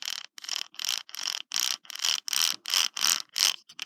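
Loose gears in an HPI Savage RC truck differential rattling in rhythmic bursts as it is turned by hand, about a dozen evenly spaced clicky grinding pulses, close and fairly quiet.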